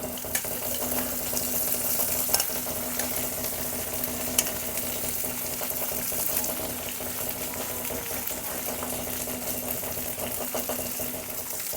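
Chopped vaseti greens are added to hot oil with garlic, producing a steady, close, loud sizzle and crackle that continues evenly throughout with no talking.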